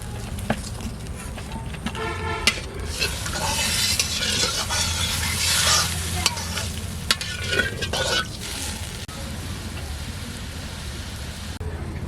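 Water poured into oily spice paste frying for a sea fish curry, with chilli powder and salt, sets off a loud hissing sizzle and bubbling, with spoon scrapes and clatter, settling into a steadier simmer.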